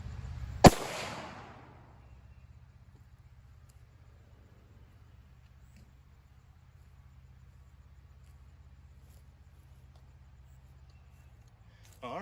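A single sharp gunshot from a CCI 44 Special 200 grain jacketed hollowpoint round, loud and close, with a short decaying tail that fades into a low steady hum and near silence.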